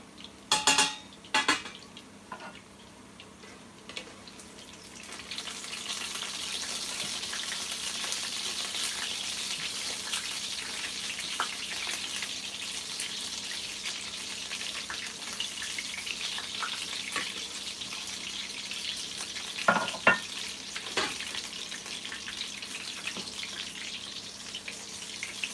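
Sausage sizzling in a pan, a steady close frying hiss, with clinks of a spoon against metal early on and a couple more near the end as the sausage is lifted out.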